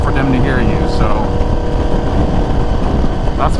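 Honda VFR800 motorcycle with a loud certified exhaust, heard while riding as a steady droning engine roar blended with heavy wind buffeting, continuous and close.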